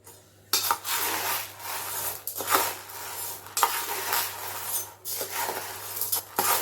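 Roasted chana dal and urad dal are stirred together in a pan, with a steady gritty rustle punctuated by rhythmic scrapes and light clinks of the utensil against metal, heard up close without any talk.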